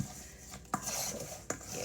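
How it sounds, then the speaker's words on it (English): A spoon scrapes and clinks against a bowl while raw shrimp are mixed for Jamaican curry shrimp, with two distinct knocks over a soft, close stirring rustle. "I just have to combine it with a spoon."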